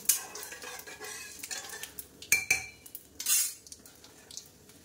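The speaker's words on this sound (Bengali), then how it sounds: "চলো এবার ডালটা ঢেলে দেবো" Cooked dal goes into a pan of sizzling cumin and dried red chilli tempering, giving a faint sizzle with scattered clinks and stirring scrapes of a utensil against the pan. No voices.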